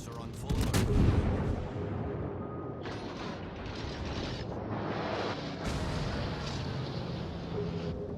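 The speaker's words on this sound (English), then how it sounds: "Anti-aircraft gun crews are on full alert." Warship anti-aircraft guns in World of Warships fire in a burst of sharp cracks near the start, then sparser thuds and mechanical clatter continue at moderate loudness.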